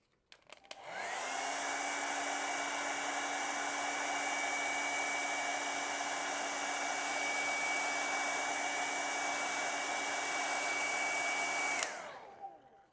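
A hair dryer blows steadily on an acrylic painting, switching on sharply and running loud and even for about eleven seconds before cutting off.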